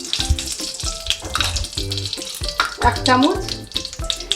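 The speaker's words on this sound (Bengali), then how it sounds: "যে ঘি দিলাম কড়াইতে" Ghee sizzles and crackles in a kadai with a steady, fairly loud hiss, while a voice talks briefly over it.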